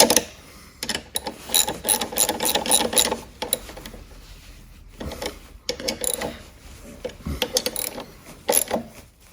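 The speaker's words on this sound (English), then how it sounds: "Just going to reach forward and grab my ratchet with the 10 mil." A ratchet with a 10 mm socket tightens a bolt on a Venom 1300W electric ATV, giving close, quick clicking bursts that start and stop in short runs with brief pauses between.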